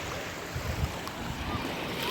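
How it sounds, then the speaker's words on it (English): Ocean waves breaking on a beach at Koh Samui, Thailand, heard as a steady broadband wash with low surf rumble and some wind buffeting on the microphone, close and continuous with no talk. "The waves are crashing."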